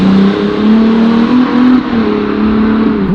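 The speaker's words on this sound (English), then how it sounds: "it is the best sounding exhaust on a V6 that I've ever heard in my life." A Ferrari 296 GTB V6 fitted with a Novitec exhaust, engine note held loud and close with a slight rise and fall in pitch over a few seconds, no voices.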